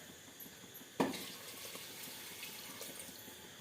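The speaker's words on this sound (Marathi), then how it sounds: "पाहिजे तेवढं पाणी टाकायचं अंदाज" A faint, steady stream of water runs into a pot for khichdi, beginning with a soft splash and continuing as an even pour in a quiet kitchen.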